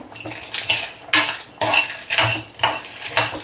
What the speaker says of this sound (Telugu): ధనియాలు పల్లీలు ఈ విధంగా వేగిన తర్వాత నేను ఇక్కడ ఎండుమిర్చి వేసుకున్నాను